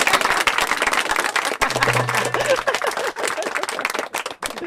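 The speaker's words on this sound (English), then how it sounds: "Oh, you can clap out loud." Audience applause at a small live performance venue in San Francisco, a dense patter of many hands clapping throughout, fairly loud and close, with a brief dip partway and a low hum beneath.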